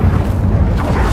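An Incendio fire spell in the Hogwarts Legacy video game lands as a short, heavy, rumbling boom, loud and low throughout the brief moment with no voices.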